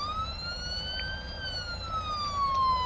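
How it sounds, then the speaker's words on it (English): A siren fitted to a cab-over truck wails in a steady, slowly rising and falling tone, loud and close, running continuously over a low engine rumble with no talking. "It does have a siren on it."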